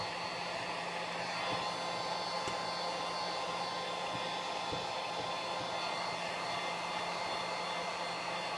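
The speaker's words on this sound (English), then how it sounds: "Keep it on low power as well and just gradually let it heat the heat shrink up." A heat gun set to low power blows steadily while shrinking heat shrink tubing over twisted wires on a small Morse code practice key, a constant whooshing hum with a few faint clicks and no talk.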